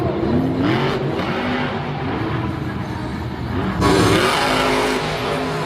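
Monster truck engine roaring and revving during a run at Monster Jam in Lyon, France, a loud continuous drone with rising and falling pitch sweeps and a sharp surge near the end, amid crowd and arena noise.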